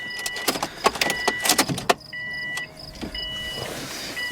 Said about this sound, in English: I hear the fuel pump prime.